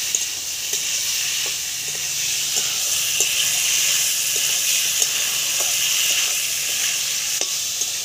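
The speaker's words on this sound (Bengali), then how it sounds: "এবার আমি মাছটা দিয়ে দেবো। মাছটা দিয়েও আবার একটু মাংসের মতো করে ভালো করে কষে নেব।" Fish frying in a spice masala in a pan, a loud continuous sizzle and hiss with occasional soft taps of stirring, close up; a voice speaks briefly over it.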